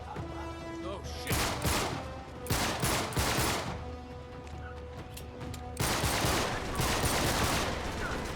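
Bursts of gunfire from enemy shootouts in the action game Uncharted, rapid volleys of shots in several loud clusters over steady background game ambience and music.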